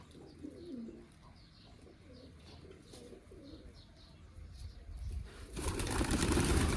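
Pigeons coo softly in low, rolling phrases over the first few seconds, then a sudden broad rush of noise, like wings or wind, swells up near the end.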